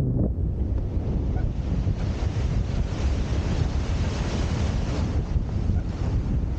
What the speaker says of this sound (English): there's a big swell here and some powerful white water.